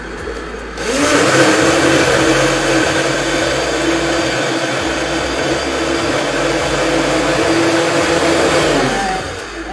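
Loud electric blender whirring through raw vegan banana ice cream mix, starting abruptly, running steadily with a high motor whine and slight load changes, then winding down at the end; no talking.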